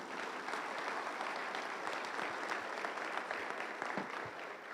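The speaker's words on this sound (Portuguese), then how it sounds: "Será que a gente pode aplaudir a Jesus por isso?" A church congregation claps for Jesus in a sustained, moderately loud burst of applause, a crackling even texture with scattered sharper hand claps.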